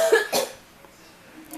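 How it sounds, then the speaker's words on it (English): A person coughs twice in quick succession, close and fairly loud, followed by a quiet pause with faint room noise. "Hold on, I have to cough."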